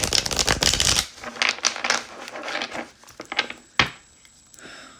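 A deck of tarot cards is shuffled in quick riffling bursts, loud and close, followed by a few quieter taps and settling rustles.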